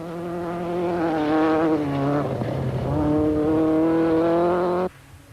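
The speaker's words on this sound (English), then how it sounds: "Listen to how the Polo was struggling up the hill." A Volkswagen Polo rally car with a broken drive shaft strains uphill during a 2004 rally, its engine whining steadily at high revs, dipping briefly midway, then cutting off abruptly near the end.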